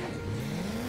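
Engine of a car being driven in Disney Infinity as Dash from The Incredibles, a steady rising drone heard close and alone for about a second.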